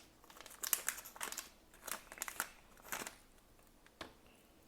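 Crinkly plastic packaging for an external PC power switch is opened up close, giving a run of quiet crumpling, rustling and tearing bursts with no talk.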